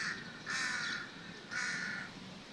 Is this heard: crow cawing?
yes